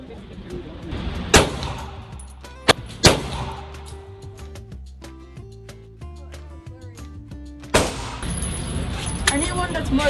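Gunshots at an outdoor shooting session in Texas: a few loud, sharp cracks spaced several seconds apart, near and echoing, with background talk and rustling between them.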